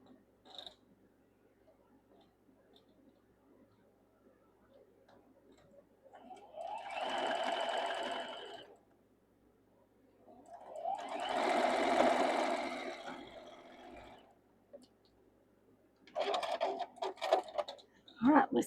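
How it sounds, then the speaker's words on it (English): A sewing machine stitches a quilt block in three steady whirring runs, each lasting a couple of seconds, with quiet pauses between them and a low background hum. "we'll sew this to here, and this block is done"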